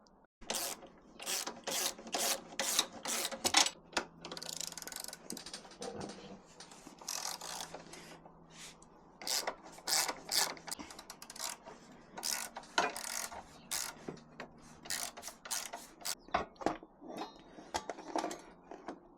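Ratchet clicking away at the three handlebar bolts on a Harley-Davidson Pan America motorcycle, in repeated quick bursts of pawl clicks with short pauses between, close and fairly quiet, with no talking.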